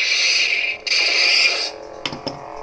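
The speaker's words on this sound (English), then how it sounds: "So, let's see, how loud is this ultrasound saber?" A lightsaber with an ultrasound soundboard gives a bright, hissing hum that cuts out briefly, returns, then fades into a few sharp clicks, heard close and alone.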